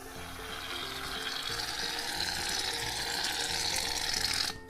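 Shaving foam being stirred into slime, a wet squelching, crackling fizz that stays close and fairly steady for a few seconds before stopping abruptly.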